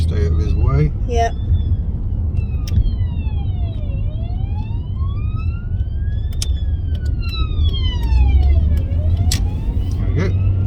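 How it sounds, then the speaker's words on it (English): An ambulance's wailing siren sweeps up and down repeatedly, rising and falling in long cycles over the rumble of a moving AU Ford Fairmont's engine. "we just got the ambulance coming up behind us"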